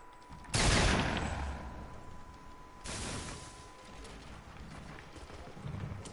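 Two heavy hand cannon gunshots in a video game boom a couple of seconds apart, each trailing into a long echoing decay over faint background noise.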